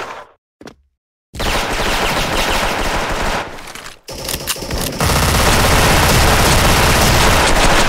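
Sustained rapid MP9 submachine gun fire in the online shooter Special Force, dual-wielded, loud and close, in long dense bursts after a brief pause near the start.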